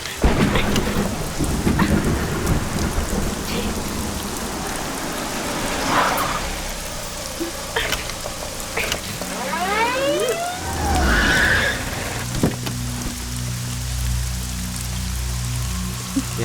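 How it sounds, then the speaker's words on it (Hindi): Heavy rain pours down steadily with loud, rolling thunder rumbling through a stormy scene, the downpour constant and close with deep booms swelling and fading, and no voices. "बरसात है ना"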